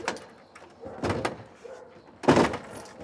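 A faulty door in need of repair is worked open and shut, giving several sharp bumps and clatters spread over three seconds, the last one loudest and close, with no talking.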